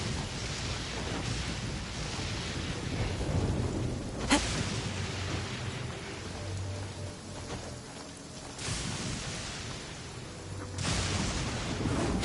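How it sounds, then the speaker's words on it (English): Steady rain pours down in the video game Genshin Impact while thunder rumbles in low rolling swells, one sharp crack cutting through midway and heavier bursts of downpour returning near the end. "Taking a stroll in the middle of a downpour certainly rouses the spirit."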